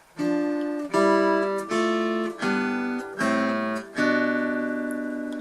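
Slow fingerpicked acoustic guitar, six separate plucked chords of a six-note picking pattern rolling out one after another, each ringing clearly before the next, close and unaccompanied.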